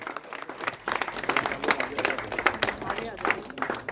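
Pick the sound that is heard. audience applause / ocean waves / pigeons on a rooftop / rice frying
audience applause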